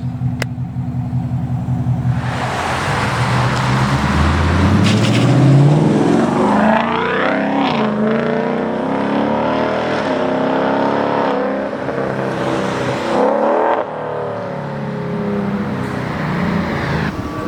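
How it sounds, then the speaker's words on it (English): Modified Ford Mustang GT V8 roaring past: a deep rumble builds, swells into a loud, rising drive-by howl, then fades into a sustained throaty growl with gear-change blips. "get some drive-bys and just hear the sound of the car"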